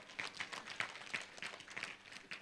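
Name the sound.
audience applause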